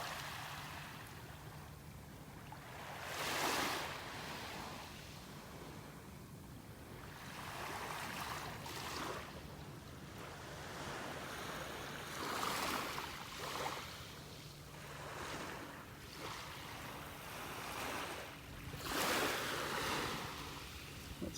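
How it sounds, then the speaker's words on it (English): Small ocean waves break gently on a North Naples, Florida beach at dawn, a steady wash of surf with soft periodic swells and breaks, no talking. "Just the tiniest of the waves coming in here."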